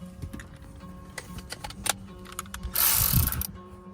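A ratchet clicks in short bursts while tightening two 10mm bolts that hold a Dodge Charger airbag in the steering wheel, close and fairly quiet, followed by a brief louder rasping whir near the end.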